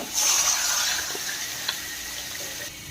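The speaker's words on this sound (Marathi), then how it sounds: "आता त्याच्यामध्ये आपल्याला पाणी घालायचं आहे।" Water poured into a kadhai holding oil and chili paste, a steady rushing splash that is strongest at first and then settles into a softer, continuous flow.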